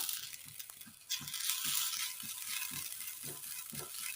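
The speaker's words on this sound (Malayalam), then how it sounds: "അടുപ്പത്തൊരു പാൻ വെച്ച് കൊടുത്ത് അതിലേക്ക് തേങ്ങ ഇട്ട് കൊടുക്കാം" Grated coconut being stirred in a hot pan on the stove, a steady sizzle under rhythmic scraping strokes of a spoon against the pan, close and continuous.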